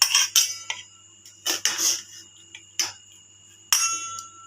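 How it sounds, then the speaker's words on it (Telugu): Metal utensils clink and scrape against a bowl as masala vada curry is served, a series of bright, close ringing knocks separated by short pauses, with no talking. "గిన్నెలోకి తీస్తున్నాను."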